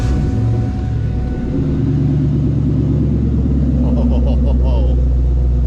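A car fitted with a Hooker Blackheart cat-back exhaust cranks and fires up, then settles into a loud, deep, steady idle rumble close by.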